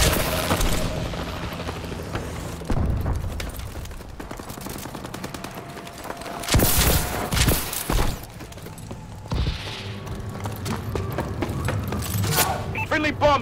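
A friendly bombing run in a multiplayer shooter game sounds as a chaotic burst of gunfire and heavy blasts, with sharp cracks, booming impacts and rumbling mechanisms at fluctuating loudness, mixed with voices.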